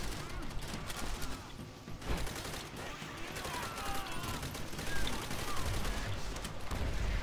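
Bursts of rifle and machine-gun fire crackle through a Call of Duty: World at War battle, dense and overlapping at moderate loudness. Players talk over the shooting.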